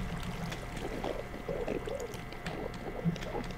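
Water flowing and spreading out in a Minecraft-style video game, with a soft continuous trickling and pouring wash, fairly quiet and even, no talking.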